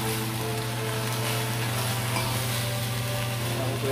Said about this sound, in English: So I'm going to add breadfruit now. Give it a little stir.